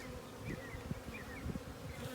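Honey bees buzz around an open hive during a live inspection, a dense, steady drone with individual bees whining past close by, faint and continuous with no talk.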